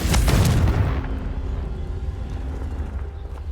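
The Confringo fire spell goes off in a Harry Potter video game as one loud, close blast that decays into a low, lingering rumble lasting several seconds.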